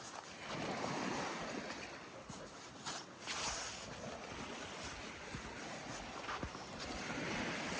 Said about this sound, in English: Okay, so this is Bluff Beach.